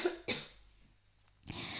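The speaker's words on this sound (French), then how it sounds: "je suis enrhumée donc je vais tousser parce que ça me gratte atrocement" Two coughs from a woman with a cold and an itchy throat, close and fairly soft, with a short quiet gap between them and no talking.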